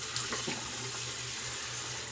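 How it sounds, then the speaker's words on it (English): Warm water runs steadily from a tap in a continuous hiss, close and moderately loud, with no voices. "Warm water rinse."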